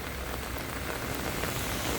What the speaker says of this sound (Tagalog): Lumalakas po yung ulan pero okay lang po.